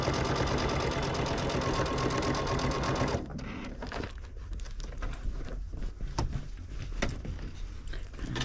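A sewing machine runs steadily for about three seconds while back-stitching binding on a June Tailor shopper tote bag, then stops, leaving quiet handling and rustling of fabric.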